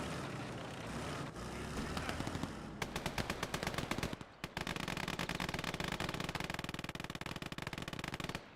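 Sustained bursts from a Maxim machine gun in the game Gates of Hell, loud rapid rattling with a short pause midway before another long continuous burst, dense and close.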